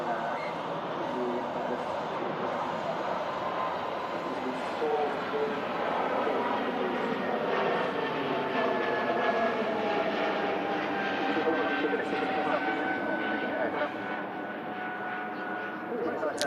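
An EasyJet airliner on approach to Manchester Airport gives a steady, sustained jet roar with faint whining tones, holding at an even level throughout.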